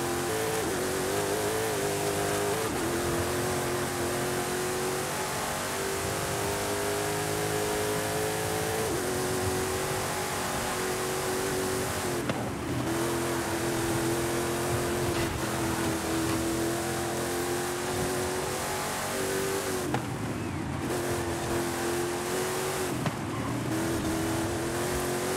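In Forza Horizon 5, a race car engine, the Apollo, drones loud and constant through gear changes and sustained acceleration in a racing event, with the pitch rising and dropping over the run.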